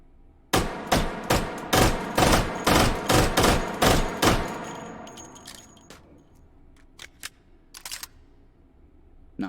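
A Vector submachine gun fires from the hip in the VR shooter Hot Dogs, Horseshoes and Hand Grenades: a loud rapid string of about nine sharp shots, then quieter scattered clanks and a few isolated bangs.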